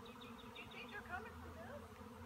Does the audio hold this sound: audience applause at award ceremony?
no